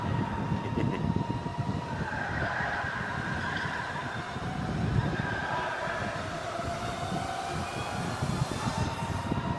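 A go-kart circling a race track in a time-trial run produces a steady, continuous engine drone that sounds fairly distant, with a sustained whine rising and falling slightly as the kart comes through a turn, and no one speaking.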